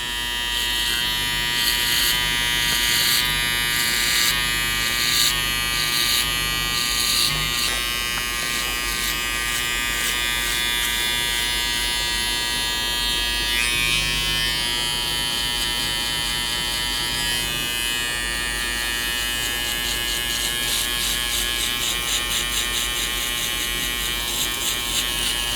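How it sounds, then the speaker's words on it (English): An Andis electric foil shaver runs steadily against hair, a close, continuous high-pitched buzz with slight pulsing as it passes over the bottom section of a skin fade, no talking. "at this point I'm using my Andes foil shaver and I'm boarding out the bottom part completely."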